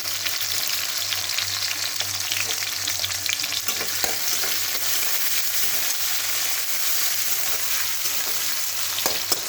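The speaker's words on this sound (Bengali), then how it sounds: "একটা বড় পেঁয়াজ এইভাবে আমি টুকরো করে কেটে নিয়েছি, তো এটা আমি ভেজে উঠিয়ে রাখবো।" Steady, loud sizzling of a chopped onion frying in a hot pan, continuous throughout with occasional stirring clicks.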